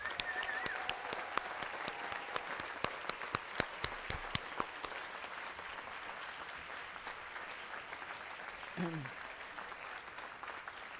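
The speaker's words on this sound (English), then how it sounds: "one last round of applause for all the graduates" Audience applauding graduates at a medical school class awards ceremony: scattered distinct claps in the first few seconds, then a faint diffuse patter that fades, with a brief voice near the end.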